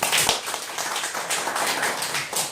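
A crowd applauds with dense, continuous clapping that holds steady for a couple of seconds, fairly loud and close.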